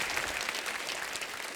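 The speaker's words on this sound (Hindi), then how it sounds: "जोरदार तालियां हो जाए मेरे भाई के" A television comedy show's studio audience breaks into brief, even applause, a soft, dense patter of many hands that stays alone and fairly quiet for under two seconds.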